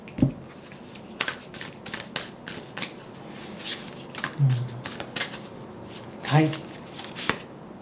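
Tarot cards are shuffled and drawn by hand, giving crisp riffles and flicks in bursts with sharp snaps between them, alongside a speaking voice.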